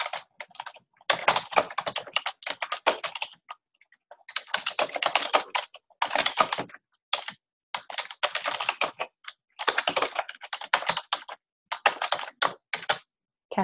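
Furious typing on a computer keyboard rattles along in rapid clattering bursts separated by short pauses, close and steady, with no voices.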